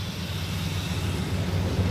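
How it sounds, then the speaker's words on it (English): A steady, low engine rumble from a 1965 Ford Galaxie 500 convertible's dual exhaust idles evenly, moderately loud and close, with no voices. "The dual exhaust sounds great too, not obnoxious."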